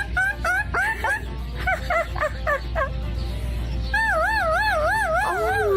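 A dog at the vet lets out a string of high, warbling, siren-like yelps and howls that rise and fall rapidly, loud and close, continuing for several seconds with little pause.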